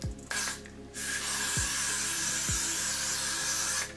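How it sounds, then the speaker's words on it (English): Freeze spray hisses in a sustained, close burst onto a frontal lace wig hairline, starting about a second in and running steadily to the end, with a few soft handling knocks around it. "So now you're gonna get the freeze spray and you're just gonna spray."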